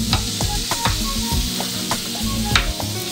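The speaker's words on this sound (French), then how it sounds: "Donc faites bien revenir vos oignons." Onions sauté briskly in a pan, giving a constant close sizzle broken by sharp clicks and scrapes as they are stirred, with no voices.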